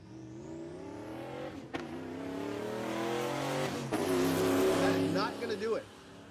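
Stick-shift drag racing car making a 13-second quarter-mile pass at a Texas motorplex, engine rising loud and steady through the gears with shifts, a commentator talking over it throughout.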